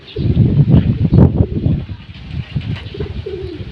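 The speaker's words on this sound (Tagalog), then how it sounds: "Yan ang mga kapidyon." Several racing pigeons of Vandenbroek and Janssen lines coo in low, throaty, rolling calls that overlap one another, close by and fairly loud, with a faint rustle underneath.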